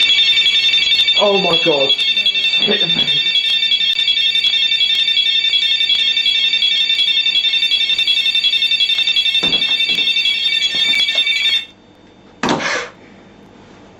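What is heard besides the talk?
beam-break sensor alarm going off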